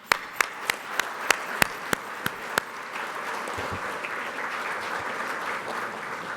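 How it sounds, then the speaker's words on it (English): An audience at a towing museum hall of fame ceremony applauds, opening with several sharp, evenly spaced loud claps before settling into a sustained wash of clapping from the crowd. "A round of applause for them one more time, please."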